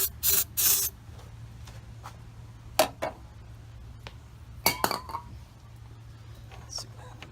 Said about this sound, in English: Put some starting fluid here.